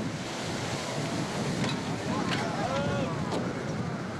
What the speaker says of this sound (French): Le plus impressionnant, ce sont les vagues, hautes de près de 4 mètres.